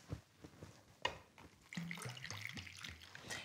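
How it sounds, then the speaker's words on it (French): Water poured into a mixed drink, a soft splashing trickle that starts after a few faint drips and clinks and runs steadily to the end, fairly quiet and close. "Et ensuite, on peut finir avec l'eau. Allez, on verse."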